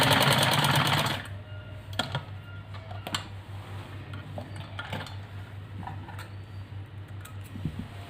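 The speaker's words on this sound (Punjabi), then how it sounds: "ਹੁਣ ਅਸੀਂ ਬਸ ਜਿਹੜੀ ਹੈਗੀ ਆ ਮੂਰੀਆਂ ਵਾਲੀ ਸਲਾਈ ਮਾਰ" Sewing machine running a stitch along the belt of a ladies' salwar, a steady close mechanical whir with a sharper burst at the start, then a quieter continuous hum with faint ticks and clicks.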